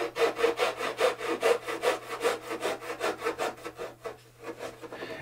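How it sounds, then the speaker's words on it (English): A small Japanese-style hand saw cutting through wood in quick, regular back-and-forth strokes, close and clear, slowing slightly toward the end. "now I'm using a small Japanese style saw"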